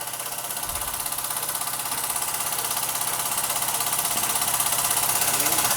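Steady, rapid mechanical beat of a Mamod SP2 model steam engine running smoothly and evenly, close by, with a constant hiss over the rhythm.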